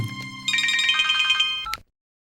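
A telephone rings with a bright electronic ringtone, a repeating melodic pattern played close and clear before it cuts off abruptly into silence.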